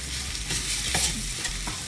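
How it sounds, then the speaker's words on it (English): Minced meat with spice powders stirred and frying in a pan, a steady close sizzle with scraping strokes of the spoon throughout. "So make sure you mix it well and fry it a little bit"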